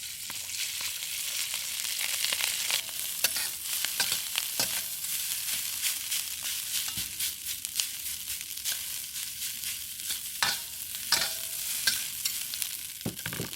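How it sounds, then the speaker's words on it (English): White rice is stir-fried in a little oil in a wok for kimchi shrimp fried rice: a steady hiss of frying with constant scraping and tossing strokes, close and even throughout, with no one speaking. "Then I'm going to stir fry some white rice in it."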